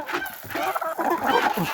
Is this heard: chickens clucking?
yes